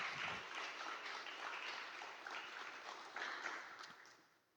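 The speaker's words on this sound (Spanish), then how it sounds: "Denle un gran aplauso al Señor" Faint, steady applause from a church congregation, a soft continuous patter of many hands that tapers off toward the end.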